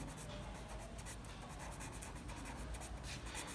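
A pen scratches steadily across paper while an entry is written into an account ledger, a faint, close, continuous rubbing with short stroke bursts.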